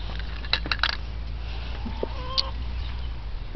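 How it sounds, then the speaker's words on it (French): Farm hens give short scattered clucks and squawks close by, a few bursts early and another near the middle, over a low steady background hum with no talk. "Allez, cassez-vous les poules."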